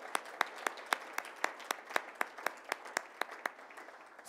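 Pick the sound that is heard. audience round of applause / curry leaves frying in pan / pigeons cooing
audience round of applause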